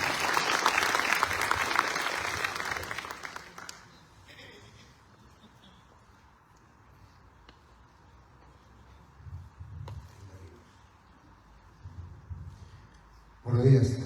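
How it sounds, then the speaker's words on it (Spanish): An audience at an academic event in Lima applauds loudly for a few seconds; the clapping then fades into quiet room noise, with a short renewed burst of claps near the end. "Démosle un fuerte voto de aplausos"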